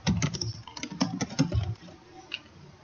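Close, quick taps on a computer keyboard in an irregular run of keystrokes, thinning to a few faint clicks near the end.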